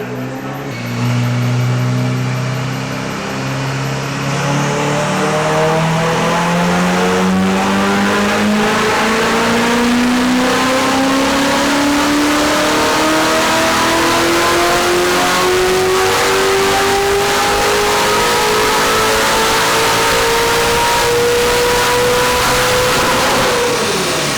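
A Ferrari 488 GTB fitted with Pure turbos revs hard on a dyno, its engine note climbing steadily in one long, loud pull that lasts about twenty seconds before cutting off.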